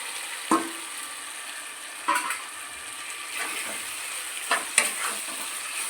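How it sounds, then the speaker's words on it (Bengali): Chicken tossed into oil-releasing spiced masala for palak chicken, stirred and sautéed in a pan: a steady close sizzle broken by several sharp scraping stirs, with no talking. "চিকেনটা দিয়ে ভালোভাবে কষিয়ে নেব একটু"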